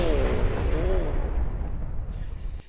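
Gunfire and explosive hits strike a fighter plane in the mobile air-combat game Sky Combat, a loud continuous roaring barrage with a falling whine that fades over a few seconds.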